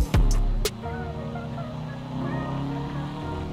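Subaru WRX STI fitted with a Stage 2 Hycade kit in the video game GTA V: a couple of sharp pops give way to a steady, tonal engine hum that rises slightly as the throttle blips.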